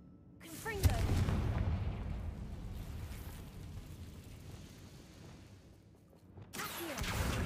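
A Confringo blasting spell explodes in a Harry Potter video game: a sharp burst, then a heavy rumbling roar that thins out before a second loud swell rises near the end.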